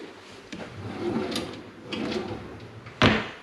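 Hotel room drawers sliding open and shut, a few scraping wooden slides followed by a sharp knock as one closes near the end, close by with no talking.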